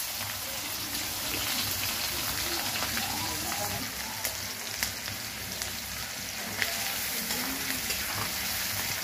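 Cinnamon sticks and bay leaves sizzle and crackle steadily in hot oil at the start of a chicken curry, a dense close frying hiss with occasional sharper pops and no talk.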